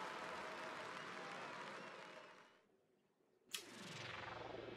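A small crowd applauding in Paper Mario during a wrestling-style match, steady clapping that fades to near silence, then a sharp hit followed by renewed clapping.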